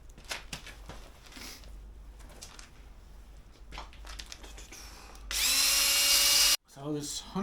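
A power drill spins 100 grit sandpaper against a curb-rashed wheel in one loud, steady burst of about a second, after quieter handling noises and a brief voice, with a short tail of rattling.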